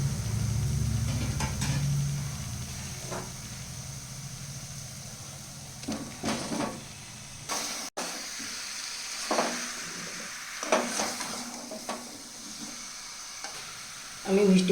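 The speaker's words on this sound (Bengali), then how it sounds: "মশলা ভাজা হয়ে গেছে, এবার আমি ভাজা মিষ্টি কুমড়োটা ছেড়ে দেবো।" Fried sweet pumpkin pieces stirred into a spice masala with sour yoghurt: a loud frying hiss at first that drops away, followed by intermittent scraping and stirring strokes against the pan and a final burst of sizzle.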